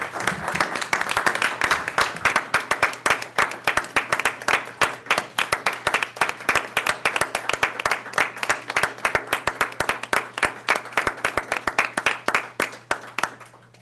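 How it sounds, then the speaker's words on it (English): An audience at a board of trustees meeting applauds the trustees, with dense, steady clapping from many hands that fills the room and tapers slightly near the end. "give these trustees a round of applause"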